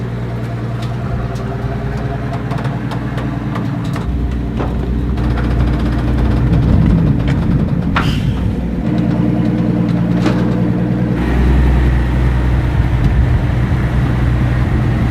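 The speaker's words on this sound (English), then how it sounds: "Listen to what this sounds like. This is a V12 bit turbo Maybach engine." A 700-horsepower Maybach Exelero V12 biturbo engine running steadily with a deep, loud low rumble, swelling slightly at times and staying alone without talk.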